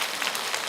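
A lecture audience breaks into applause, a dense, even patter of many hands clapping at once that lasts only a brief moment, with no voices heard.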